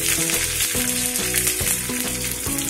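Cumin and mustard seeds sizzle in hot oil for a tempering for lentil dosa batter, a loud, close, dense crackle with stirring scrapes and a steady underlying hum.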